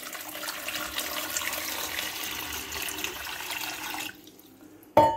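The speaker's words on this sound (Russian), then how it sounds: "Заправляем пароварку водой." Sparkling water pours steadily into a food steamer's reservoir with a continuous close splashing rush that stops abruptly near the end, followed by a short bump.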